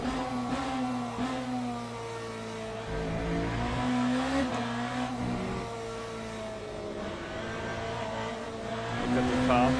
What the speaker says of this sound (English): the car is so much louder than the GT3s